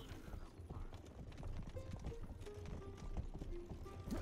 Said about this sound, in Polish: jak jedziemy koniem